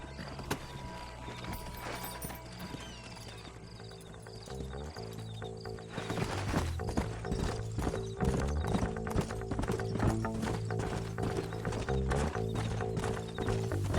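Horse hooves clip-clop steadily in the Red Dead Redemption Western video game, a rhythmic trotting beat close by under game music and mechanical creaks, growing busier and louder after the first few seconds, with a brief whinny.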